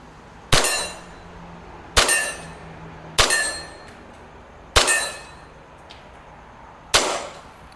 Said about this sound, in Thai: 5นัดนะครับ มาดูว่าผมจะยิงโดนไหม